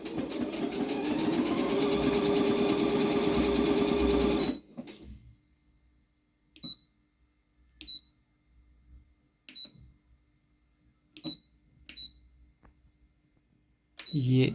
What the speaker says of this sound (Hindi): सिंपल सिलाई करना चाहते हैं तो सिंपल सिलाई करें।